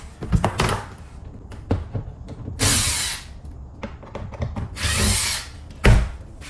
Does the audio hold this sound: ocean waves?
no